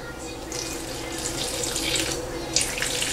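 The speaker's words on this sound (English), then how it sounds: "add just small amount of water." A small amount of water streams steadily into a grinder jar for a few seconds, a splashy pouring rush close to the microphone with no talking.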